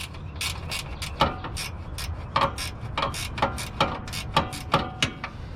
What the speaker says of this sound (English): this one I'm gonna give with my ratchet because my socket won't fit over here